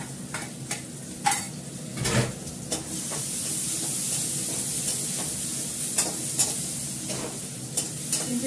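Ginger paste sizzles in a hot pan as it is stirred, a constant frying hiss broken by repeated scraping and clinking strokes of a spatula, close and moderately loud.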